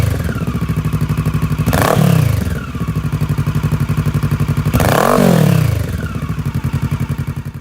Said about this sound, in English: And that's what the IXIL L3XB muffler sounds like.